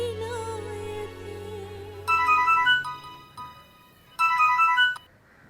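A mobile phone rings for an incoming call with a bright electronic melody in two loud bursts separated by a short pause, cutting in over fading background music.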